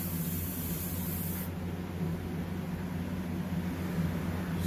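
Airbrush spraying candy paint, a continuous faint hiss of air and paint mist that runs steadily throughout, close and without talk.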